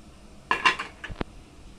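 Metal utensils clink and scrape against a pan as spices go into a Manchurian gravy, a brief cluster of bright clanks followed by a couple of lighter taps, close and clear with no talking.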